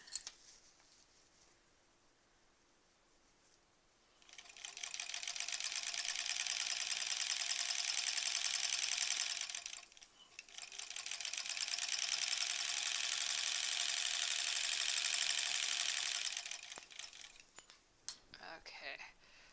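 A sewing machine runs fast through quilt sashing strips for a granny squares quilt, two long steady bursts of whirring stitching separated by a short pause, close and loud, with quiet handling before and after.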